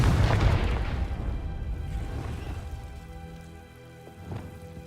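A Confringo blasting curse explodes in Hogwarts Legacy with a loud, crackling burst that fades into a long rumbling, sizzling tail, and a smaller thud follows near the end.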